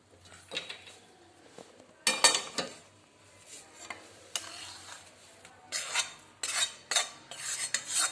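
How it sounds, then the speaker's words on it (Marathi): A utensil scrapes roasted gram flour out of a pan onto a wide plate for besan laddu, in irregular scraping bursts and metallic clinks against the pan, close up with quieter pauses between. "अशा प्रकारे पीठ भाजल्यानंतर आता आपण ते परातीत काढून घेऊया।"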